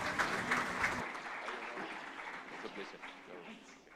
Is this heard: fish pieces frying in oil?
no